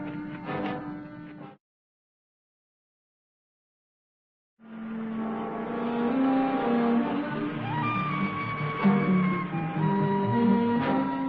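A car engine runs steadily with shifting tones, cutting out briefly into silence before resuming and continuing loudly to the end.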